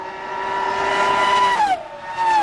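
Formula 1 cars from the 2005 British Grand Prix at Silverstone, howling out of Woodcote onto the straight: a loud, sustained high-pitched engine whine that holds steady, then drops sharply in pitch as they pass, with another car close behind.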